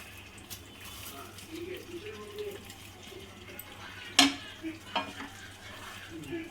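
Paneer biryani mixture with deep-fried onions being gently stirred in a pan over a low flame, soft scraping and faint sizzle with a couple of sharp utensil clinks, a voice faintly in the background.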